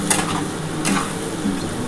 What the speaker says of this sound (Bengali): আমার কিন্তু দেখো আলু আর পেঁয়াজটা কিন্তু ভালোভাবে ভাজা হয়ে এসছে